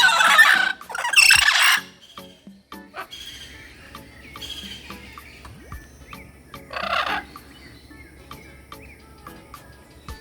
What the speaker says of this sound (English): Here, there is a mealy parrot.